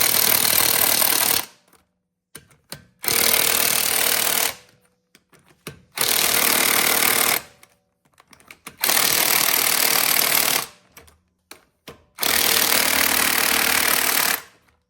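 Five long, loud bursts of an impact or power wrench tightening bolts on a Dodge Durango, each lasting about a second and a half, separated by short pauses with faint clanks.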